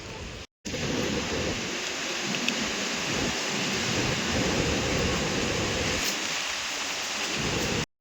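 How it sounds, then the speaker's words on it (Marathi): Strong gusty monsoon wind roars steadily across an open hill fort, a loud continuous broadband rush close to the microphone, briefly cutting out near the start and end. "सोसाट्याचा वारा सुटला बघा इथं"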